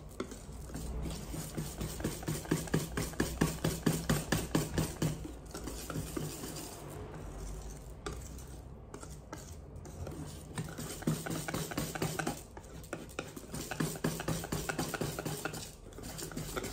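Rice being stirred in coconut milk for putong bigas, a steady rhythmic scraping and sloshing of a utensil in a pot, fairly close and continuous with a low background hum, no talking.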